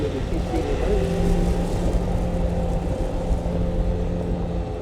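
Bobcat loader travelling in two-speed reverse, its engine holding a steady close droning hum with a faint whine over it.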